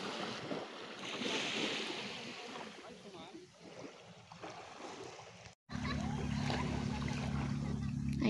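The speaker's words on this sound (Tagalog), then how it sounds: "Meron ang paparatingin na bangka" A fishing boat approaching on open water in the late afternoon, with wind and waves across the microphone, then a steady low engine drone that rises and holds after a brief cut.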